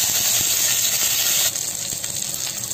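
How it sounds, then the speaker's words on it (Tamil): Curry leaves and fenugreek seeds fry in hot oil for vendakkai puli kuzhambu, giving a loud, steady hissing sizzle that eases slightly partway through. "இதில் கருவேப்பிலை ஆட் பண்ணுறேன்"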